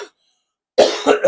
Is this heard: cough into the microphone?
yes